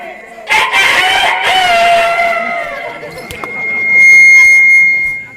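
A voice imitates a rooster's crow, a long drawn-out rising and falling call held for a couple of seconds, close and fairly loud.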